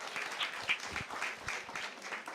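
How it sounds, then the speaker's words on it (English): An audience at an artist's talk gives a short round of applause, a dense, even clatter of many hands for a couple of seconds. "Let's give her a round of applause"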